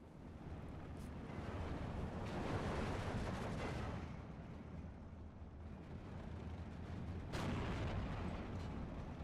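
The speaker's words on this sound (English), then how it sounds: "ARTY hitting the infantry." Artillery shells exploding on infantry in the WWII strategy game Steel Division 2, a dense, continuous barrage of distant booms and rumbling blasts layered into a constant roar.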